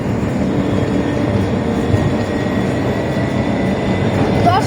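A tram rolls along its rails, a steady loud rumble and rattle heard from inside the car, with a faint squeal near the end and people talking over it.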